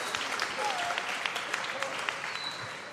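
Steady audience applause at a diocesan synod youth listening session, a dense wash of clapping held at an even level throughout, with a faint voice passing briefly underneath.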